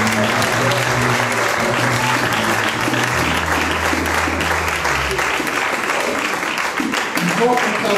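Congregation at a French-language church service giving sustained applause and cheers, a loud, continuous crowd of clapping with low voices and tonal sounds running underneath throughout.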